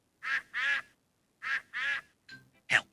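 Cartoon duck quacks from the Peppa Pig Golden Boots app game, where Peppa makes food to feed the ducks; about four bright, close quacks in two pairs with short pauses, then a quieter closing squawk, with no talk.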